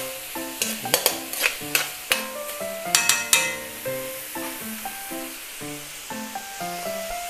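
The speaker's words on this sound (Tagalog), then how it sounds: "Halu-haluin natin siya, no? Hanggang sa" Pork, young corn and mushroom suey is stirred in a hot pan, with repeated sharp scrapes and clanks of the utensil over a steady sizzle of frying. The sounds are loud, close and irregular, with no talking.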